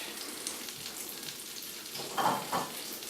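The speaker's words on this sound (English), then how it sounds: "Okay, now we'll throw in the egg." Egg hitting a butter-coated pan and sizzling as it starts to fry for an omelette, a steady soft crackle with two brief louder bursts of hissing near the end.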